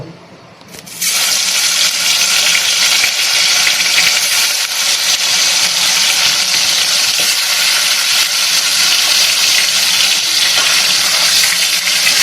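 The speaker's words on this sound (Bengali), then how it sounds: "তেল গরম হয়ে গেছে। তেলের গন্ধ ছেড়ে দিয়েছে। এইবার আমি কই মাছগুলোকে দেব।" Koi fish dropped into hot oil in a kadai set off a sudden loud, steady hiss about a second in, which roars on without a break for the rest of the clip.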